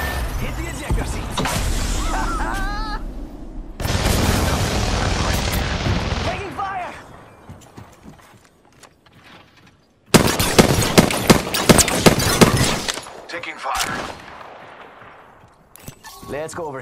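Gunfire in Apex Legends, with bursts of rapid automatic shots and booming impacts in loud clusters separated by quieter gaps, and a voice talking in places.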